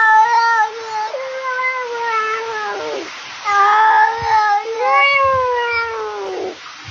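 A cat meows repeatedly in long, drawn-out, wavering cries, loud and close, with brief pauses between calls.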